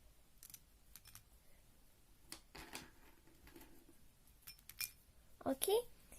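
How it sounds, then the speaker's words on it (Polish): Brit dry pet food pellets poured into a small pet's bowl, a brief clattering rattle near the end after scattered light ticks, with a voice faintly present. "I taką garstkę jej sypię i mieszam. Oraz jeszcze te granulki karmy Brit."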